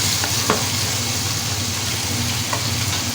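Onions and red and green peppers fry in ghee, a loud, dense, continuous sizzle close by with a couple of faint clicks and no talk.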